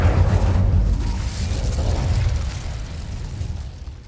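Fiery blast of the Incendio spell in Hogwarts Legacy, a loud, broad rumbling burst with heavy low-end boom that decays slowly over about four seconds, no voices.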